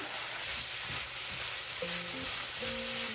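Chicken sautéing in a pan with turmeric powder for arroz valenciana gives a close, steady sizzle and hiss, with soft scrapes of stirring and a few faint tonal sounds in the background.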